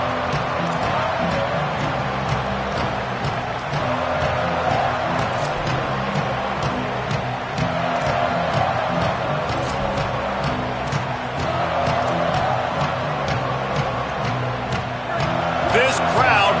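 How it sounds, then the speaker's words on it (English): A Texas A&M college football stadium crowd roars in a sustained, dense wall of cheering after kickoff, loud and continuous throughout, with a commentator talking over it. "This crowd bringing an ear-splitting welcome to their visitors"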